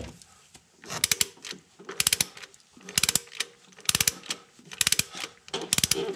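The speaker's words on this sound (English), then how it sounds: "I already have my torque wrench set to 74 foot-pounds." A torque wrench set to 74 foot-pounds ratchets on a 2012 Ford Fiesta engine during timing belt work, with six loud, close bursts of rapid clicking separated by short pauses, no talk.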